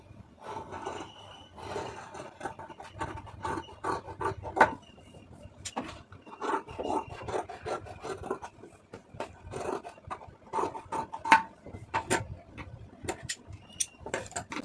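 Scissors cut through layered blouse fabric, several blouses at once, in a quiet run of soft rasping snips and scrapes repeating steadily and close by, with no voices.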